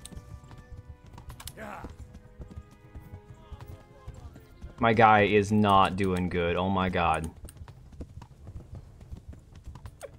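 Galloping horse hooves in the video game Kingdom Come pound out a fast, rhythmic clip-clop that swells loudly for a couple of seconds mid-clip, while people talk over and around it.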